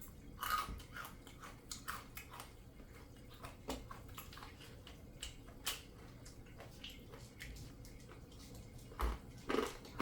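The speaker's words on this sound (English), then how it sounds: "I chew on the right side of my mouth." A person chews food close up, with faint wet smacks and soft crunchy bites scattered through a quiet stretch and a couple of louder bites near the start and end, no talking.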